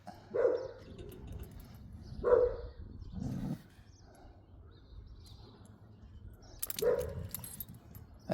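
Dogs barking during a walk at a reserve, a few short barks spaced apart at moderate distance over outdoor ambience, with light rustling between them.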